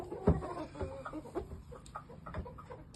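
A shamo gamecock, an imported game bird, gives a few short soft clucks at close range, with faint scuffling and background noise between them.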